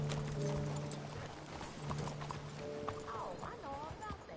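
A horse in the video game Red Dead Redemption 2 moves at a steady clip-clop with a brief whinny, heard under game dialogue and a speaking voice.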